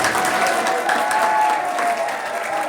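Audience applause at a Hindi poetry recital, a short steady patter of clapping from a crowd, fairly loud and close, with no talk over it.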